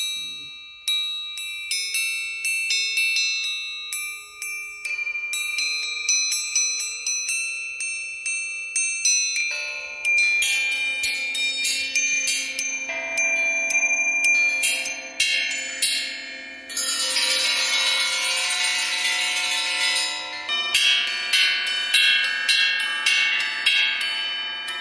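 Homemade hanging chimes ring in clusters of bright metallic tones, each strike decaying slowly, sparse at first and then growing denser and louder with overlapping shimmering notes.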